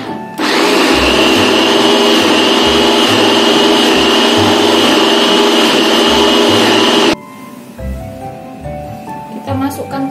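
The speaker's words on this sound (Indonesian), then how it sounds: "Kita blender bumbunya ya yang sudah dipotong-potong." Loud electric blender grinding chopped spices for rawon, a steady high whine for about seven seconds that cuts off abruptly, followed by quieter kitchen noise.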